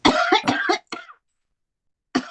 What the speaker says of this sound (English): Take care of that cough